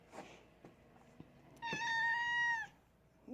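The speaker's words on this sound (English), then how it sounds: "this is the cat who goes up here and guards against any viruses from coming in" A house cat lets out a single clear, drawn-out meow lasting about a second, fairly close, after a few soft taps and rustles in a quiet room.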